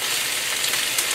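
Onion hits a hot pan in a beef and mixed vegetable stir fry with spicy soya bean paste, giving a loud, steady, close hissing sizzle.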